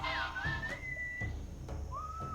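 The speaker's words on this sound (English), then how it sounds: "What is that enchanting whistling sound?" A clear, sliding whistle tune plays in a few drawn-out notes in the video game Sam and Max, with soft thuds and low background noise underneath.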